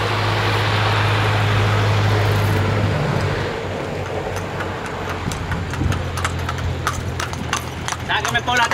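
Horses clip-clop along a road in Cuba, steady hoof clatter under a constant roar of traffic and engine noise, with voices chattering over it.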